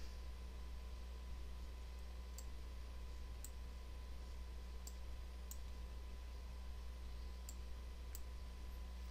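A computer mouse clicks while working in Adobe Illustrator, with about eight faint, crisp single clicks at irregular intervals over a steady electrical hum.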